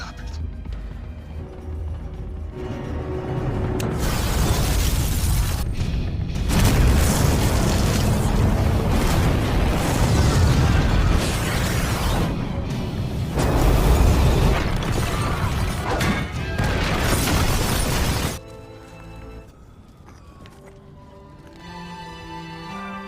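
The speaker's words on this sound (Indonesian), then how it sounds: "Ledakan yang terjadi di kota Vancouver menewaskan ribuan orang-orang serta menghancurkan sebagian besar area tersebut." Massive explosion tearing through the city of Vancouver in a sci-fi drama: a long, loud roaring blast with rumbling booms and crackling debris that sustains for many seconds, then cuts to a quieter tonal musical tail.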